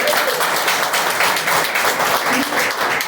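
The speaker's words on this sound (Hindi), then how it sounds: "मैं चाहूंगा हमारी संस्था के लिए बहुत जोरदार ताली हो" A seminar audience bursts into loud, sustained clapping for an organization, dense and continuous with individual claps flickering through the wash.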